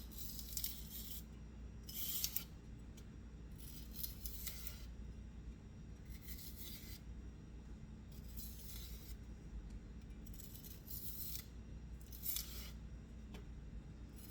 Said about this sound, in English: I trim both ends because they're dry at the ends.